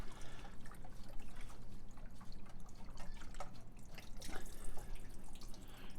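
Water draining from the drain plug at the bottom of a pool filter, a steady splashing trickle with scattered drips, close and fairly loud.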